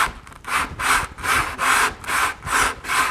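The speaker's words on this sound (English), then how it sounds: "I'll then put some sandpaper on it." Sandpaper rubbed back and forth over a flex hose in steady strokes, about seven rasping passes in three seconds, close and fairly loud with no talking.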